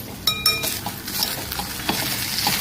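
Semolina and jaggery roast in homemade ghee for a sweet lapshi. A spoon scrapes and stirs close by in a few quick strokes over a soft sizzle.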